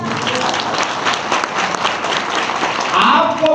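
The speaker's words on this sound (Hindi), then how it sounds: "जोरदार ताली बजा दीजिए।" Loud congregation applause during a gospel church service in India, dense and steady throughout with some voices mixed in, swelling slightly near the end.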